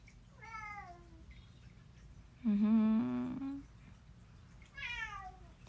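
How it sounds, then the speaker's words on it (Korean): A cat meows indoors three times: a falling cry, then a louder, longer, strained yowl, then another descending meow. Each call stands alone over low background hum. "고양이가 울고 있어요."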